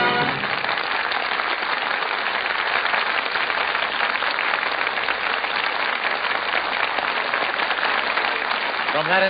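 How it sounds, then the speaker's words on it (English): Enthusiastic theater audience applause at a radio variety show, a dense, even roar of clapping like rain that holds steady for several seconds. "From that enthusiastic applause, it sounds as though our audience here in the Gulf Theater really enjoyed the show."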